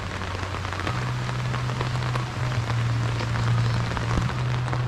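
Steady rain from a super typhoon patters on a surface, continuous and fairly close, with a low hum running underneath throughout.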